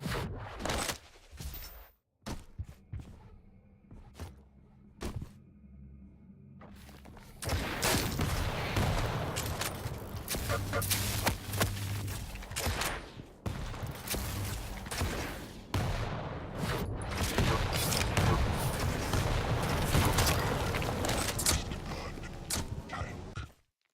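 Rocket fire and explosions from a Quake Champions arena match: a few sparse sharp bangs early, then a dense, loud, continuous barrage of blasts and impacts for most of the stretch.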